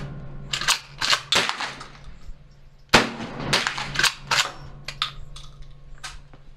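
Benelli Nova 12 gauge pump shotgun fired outdoors, with a series of sharp, fairly distant reports and clacking pump actions spaced irregularly over several seconds.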